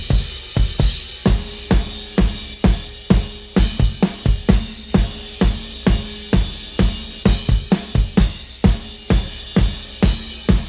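Drum-heavy music pushed through a Kiive V-Comp compressor crushing it hard, switched in and out of bypass while it plays; loud, steady, punchy hits with a bright, dense top end, no talking.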